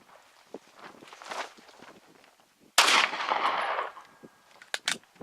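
A .300 AAC rifle firing cast zinc bullets outdoors, one loud nearby blast with a long rumbling tail, followed by faint clicks and handling noises.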